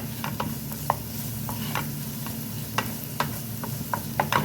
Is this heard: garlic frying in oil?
yes